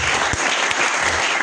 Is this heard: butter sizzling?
no